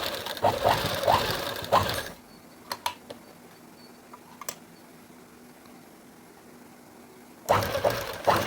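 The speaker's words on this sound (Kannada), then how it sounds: "ಇಲ್ಲಿ ಫೋಲ್ಡ್ ಮಾಡಿ ಸ್ಟಿಚ್ ಮಾಡಬೇಕು ಒಳಗಡೆ" A sewing machine rattles in a fast, close run while stitching folded cloth, stops for several quiet seconds with faint handling clicks, then starts stitching again.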